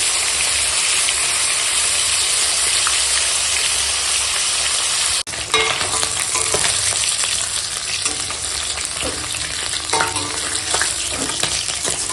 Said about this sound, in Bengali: এখন মাছটা ভাজা হয়ে গেছে দিয়ে এখন তুলে নেবো মাছটা